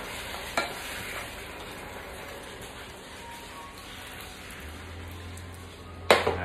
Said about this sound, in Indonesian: Jadi bila kita masukkan bahan-bahan ni, kita goreng sekejap je.